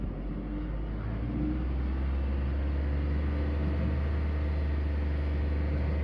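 A warmed-up VW engine, its timing chain just fixed, holds a steady low idle, a constant droning hum with no revving or talk.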